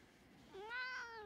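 A single short, rising cat meow, fairly soft and close, over quiet room noise.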